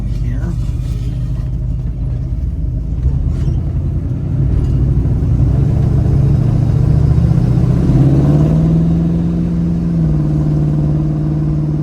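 A 1972 Plymouth Barracuda accelerating on a test drive on public roads, a deep, loud V8-style rumble that builds and rises in pitch through the gears, recorded from inside the car with faint talk.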